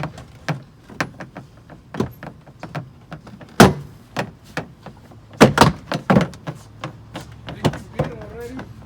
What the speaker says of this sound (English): we should be able to just pull this away from the side panel of the vehicle